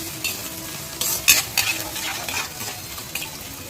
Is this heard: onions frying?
yes